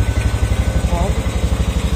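A motorcycle that sat unused for three years idles nearby with a steady, loud, throbbing low pulse and an even rhythm, its carburetor noted as faulty.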